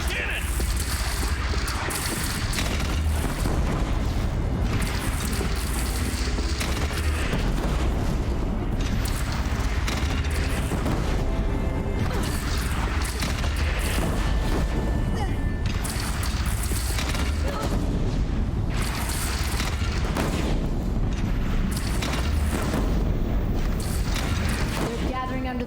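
Cannon blasts and explosions boom over and over through a Horizon Zero Dawn battle, loud and continuous, with voices calling out among the blasts.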